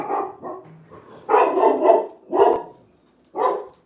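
A pet dog barks in several loud, close bursts, a couple of quicker yips early on, then heavier barks separated by short pauses, with no talk over it.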